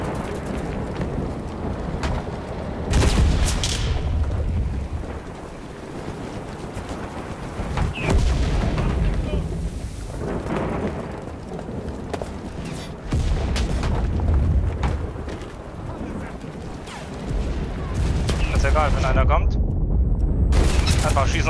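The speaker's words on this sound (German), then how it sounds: "Artillerie geht runter." Artillery strike explosions in the video game Enlisted, repeated heavy booms and rumbling blasts rolling in waves amid gunfire, with a player talking over the battle.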